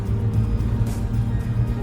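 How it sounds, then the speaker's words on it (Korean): Steady low tire roar from a Toyota Sienna with a 3500cc engine rolling down the road, a constant rumble heard close from the cabin, with a voice faintly over it. "이제 타이어의 노면 소리는 좀 들리는 것 같은데"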